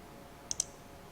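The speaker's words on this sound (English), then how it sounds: "right click" Two quick, faint clicks of a computer mouse right-click, close together against a quiet room hum.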